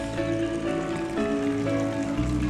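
Water spouting from the stone mouth of a garden fountain at a Bali beach resort, a steady close splashing wash with a low hum underneath and no talk.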